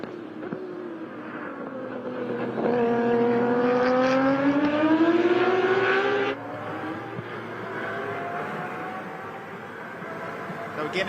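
A Nissan RB six-cylinder race car at a time-attack event, its engine rising in pitch through the gears as it climbs a long pull, then dropping away sharply as it lifts, loud over a background of crowd noise.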